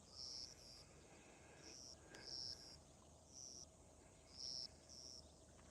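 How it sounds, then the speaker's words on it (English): Crickets chirping at night in quiet countryside in Japan, with high, repeated bursts of trilling that come in a steady rhythm over a faint background hum. "All you hear is the crickets"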